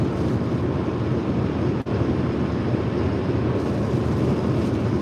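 Steady roar of strong wind against a car driving from Lelystad to Muiden in the Netherlands during a heavy snowstorm, a constant loud rushing noise with one tiny dropout and no talking.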